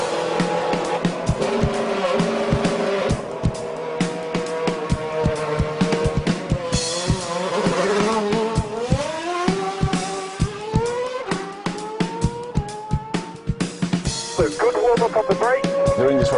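Formula 1 race car engine on a formation lap, a loud high-pitched wail with rapid revving rises and falls, gear-shift drops and weaving, heard close from onboard with a voice speaking over it.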